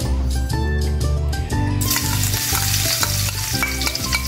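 Garlic sizzling in hot oil in a frying pan for an adobong manok, a loud continuous crackling fry with stirring and scraping throughout, growing brighter partway through, with music-like tonal hum underneath.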